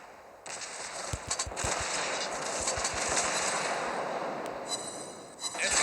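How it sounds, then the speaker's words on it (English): Rapid bursts of ship gunfire from a USS Brooklyn cruiser in World of Warships Blitz, dense repeated booms layered over a loud sustained roar of battle noise, with a voice talking over it. "Look at what your guns can do to destroyers."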